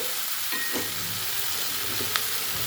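Okra pieces sautéing in a pan for a tamarind curry, a steady broadband sizzle with a few soft stirring scrapes and one brief clink, close and alone with no talking.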